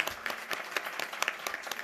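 A board meeting audience claps in a school district meeting room, a steady patter of many hands at moderate distance, fairly quiet and continuous for a moment.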